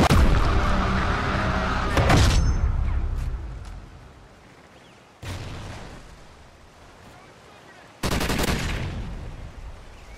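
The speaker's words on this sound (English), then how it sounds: "Your sentry gun is ready." Sentry gun firing in a video game prison break, with loud bursts of rapid gunfire in three separate stretches, separated by quieter gaps with fading echoes.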